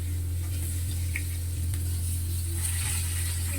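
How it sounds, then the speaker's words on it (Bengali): Onion and tomato fry in hot oil with a continuous close sizzle and occasional stirring over a low steady hum. "টমেটো পেঁয়াজ ভালোভাবে ভাজা হয়ে গেছে।"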